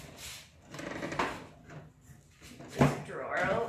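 The wooden drawer of an antique dresser is pulled out with short scraping, knocking wood sounds, fairly faint and close, mixed in with a person talking nearby.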